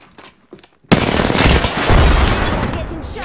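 Gunfire in the battle royale game Apex Legends: after a few quiet taps, a sudden loud burst of dense, sustained shooting erupts and keeps hammering close by to the end.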